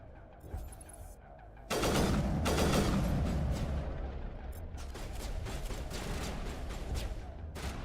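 Shooter-game gunfire: a sudden heavy barrage of rapid shots and booms that stays dense and continuous for several seconds, fairly loud, with faint voice-like sounds in the mix.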